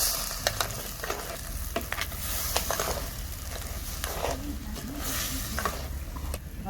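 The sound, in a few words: sautéing crab gravy masala in a pan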